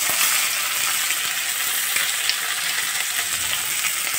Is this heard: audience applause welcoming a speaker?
no